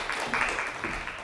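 A lecture audience gives a brief burst of clapping, a short, moderately loud patter that fades within about a second.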